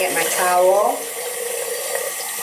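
Warm water runs steadily from a bathroom faucet, a continuous close splashing hiss with someone talking over it.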